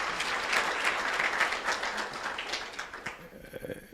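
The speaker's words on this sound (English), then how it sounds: "Can we give him a round of applause?" Conference audience applauding for a speaker, a steady patter of many hands at moderate distance that thins and fades toward the end.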